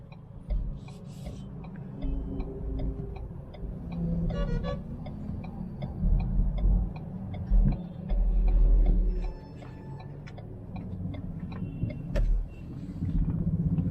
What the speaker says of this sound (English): Well, there's a lot of traffic here.